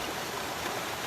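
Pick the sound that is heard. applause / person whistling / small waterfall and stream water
small waterfall and stream water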